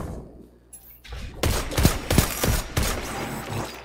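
Gunfire in the first-person shooter Destiny 2 starts after a quiet moment: a rapid burst of loud, closely spaced shots with booming impacts, continuing to the end.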